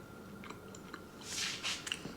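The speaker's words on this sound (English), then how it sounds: "And you know what? I'm gonna have a tiny little bite." Someone takes a small bite of a lemon custard tart and chews, with soft crumbly crunches that build to a few louder bites before quieting, close to the listener.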